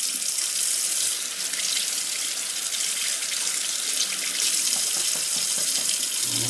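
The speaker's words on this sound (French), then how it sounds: "délayer mon fond de veau avec de l'eau chaude" Hot tap water runs steadily into a container to dilute veal stock in a home kitchen, a continuous broadband rush lasting throughout, close and fairly loud with no talking.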